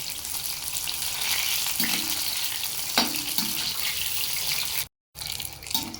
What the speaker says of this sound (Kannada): ಸೊ ಈ ಥರ ಹಾಕಿ ಫ್ರೈ ಮಾಡ್ಕೋಬೇಕು